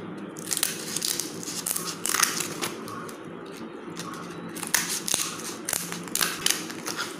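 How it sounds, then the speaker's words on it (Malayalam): Dried banana leaf sheath being cut into small pieces, close crisp snipping and crunchy crackles in irregular bursts over a steady low background hum. "ജസ്റ്റ് ഒന്ന് ചെറിയ ചെറിയ പീസുകളായിട്ട് മുറിക്കുക"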